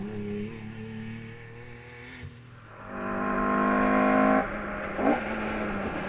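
Rally cars driving fast on a misty special stage of the 2011 Pokerstars Rally, with engine drone shifting pitch as the cars accelerate and pass, fairly close and loud.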